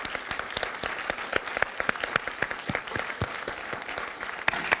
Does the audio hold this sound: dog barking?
no